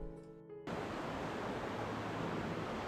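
A stream at Kollengode near Nelliyampathy flows fast and forcefully, giving a loud, steady broadband rush of water that begins abruptly after a brief quieter moment and then continues without a break.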